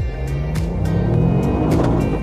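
A Toyota GR Yaris drives off the asphalt, its engine giving a steady low drone with rising pitch, while sharp gravel-like crackles and brief bursts punctuate the continuous road noise.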